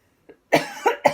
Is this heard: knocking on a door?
no